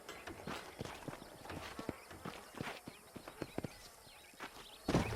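Horses' hooves clip-clop on the ground in a Red Dead Redemption game scene near Armadillo, with steady irregular beats from several hooves over faint ambient background, no talk.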